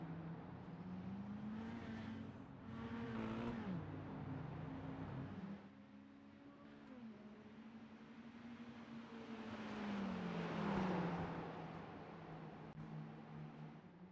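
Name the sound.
mini stock race cars on dirt track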